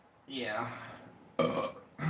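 Two loud, throaty burps from a man, one long and drawn-out and a shorter one after a pause, close up, with a brief spoken word in between.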